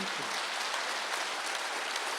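A church congregation at a Wednesday worship service applauds in a steady, even wash of many hands clapping. It is fairly faint and sustained, with no voices over it.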